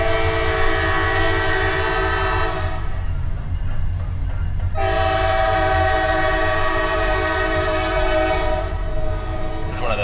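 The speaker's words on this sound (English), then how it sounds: "I think we got a train coming." A loud train horn blares nearby in long sustained blasts over the rumble of rail cars rolling past, in a small town in Alabama.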